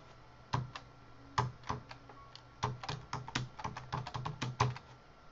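Fingers type a password on a computer keyboard, close and quiet, a burst of irregular key clicks with short pauses, coming in quick clusters toward the end.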